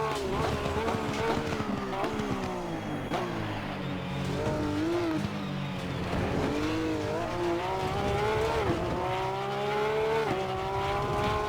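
Sim racing engine of a 2018 Porsche GT3R at Monza in Assetto Corsa Competizione, a steady loud engine note rising and falling with gear shifts, throughout without pause.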